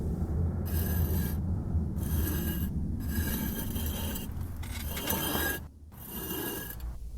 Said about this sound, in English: It was a rattling sound coming from the floor. It sounded like someone was dragging metal underneath.